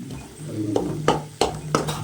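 A spoon stirring garam masala through pasta in a pan, with several distinct scraping knocks against the metal over a low sizzle, close and fairly loud.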